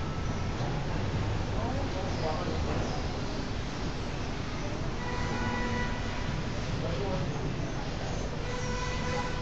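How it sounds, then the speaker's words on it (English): An R42 Z train on the BMT Nassau Street line runs at Broadway Junction, heading for Broad Street. It makes a faint, distant rolling rumble with thin metallic squeals rising in the later seconds. "Look, another Z train, Kiara"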